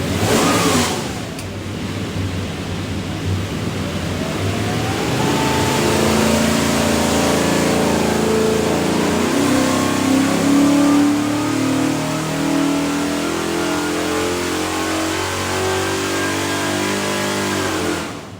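A 408 stroker engine in an '85 Thunderbird revs on a dynamometer, its loud roar climbing steadily in pitch through a long full-throttle pull before easing off, close and continuous with no voices.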